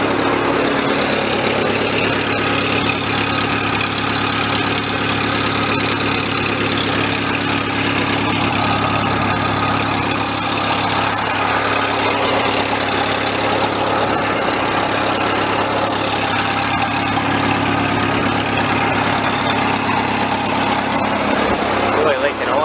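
A 1970 Bobcat 610 skid steer idles steadily just after a cold start, its engine note loud, close and continuous throughout, with a rough low rumble and a voice talking over it.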